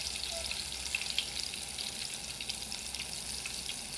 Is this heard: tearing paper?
no